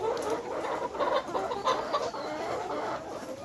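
Layer hens in a poultry shed cluck steadily, several birds overlapping in a busy murmur of short calls at moderate distance, with no talk.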